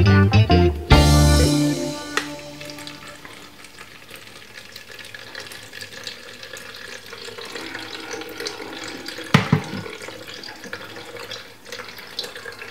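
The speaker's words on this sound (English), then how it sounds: "So now I got my strainer ready to strain off this beautiful beetroot juice" Beetroot juice poured through a strainer, opening with a loud splashing gush, then a steady trickle and drip that continues with a few clinks and bumps.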